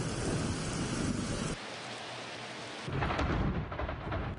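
Summer thunderstorm in the Rio Grande Valley with heavy rain pouring down, deep thunder rumbling loudly at the start and again near the end, and dense rain hiss continuing throughout, no voices.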